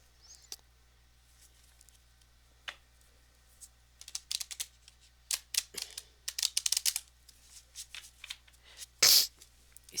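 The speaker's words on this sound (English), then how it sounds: "Let's do a shuffle" Tarot cards being shuffled: soft scattered riffles and flicks, sparse at first and then building into quicker bursts, with a sharp louder snap near the end, close and without talk.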